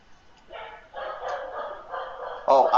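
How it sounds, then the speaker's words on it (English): Wiener dogs bark indoors in a short burst of several quick, fairly close yaps, the last one louder, with no talk. "sometimes you'll hear some dogs because I have wiener dogs, so they are my alarm."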